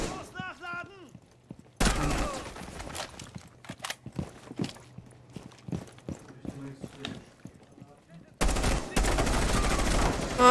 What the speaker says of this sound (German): Kannst du mal aufhören, gegen die Wand zu schießen?